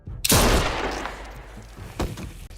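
Gunfire in The Walking Dead: A New Frontier video game: one loud, sharp shot that rings out and slowly decays, followed about two seconds later by a second, shorter blast.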